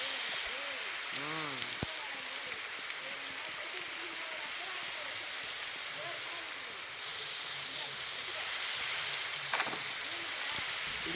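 Steady rain falls outdoors as a continuous close hiss, with scattered drip and patter sounds throughout and faint background noise.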